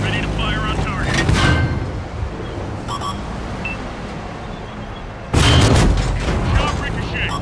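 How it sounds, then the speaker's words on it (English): A booming tank cannon shot in World of Tanks, loud and close, then a quieter stretch of engine rumble and battle noise before another heavy blast near the end; voices speak over it. "Shot ricochet."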